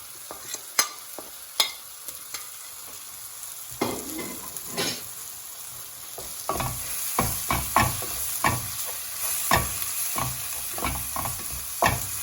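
Mutton curry masala sautéed in a pan, a steady sizzle under repeated scraping strokes of a spoon, sparse at first and then coming in a quicker, regular rhythm, close and fairly loud with no talking.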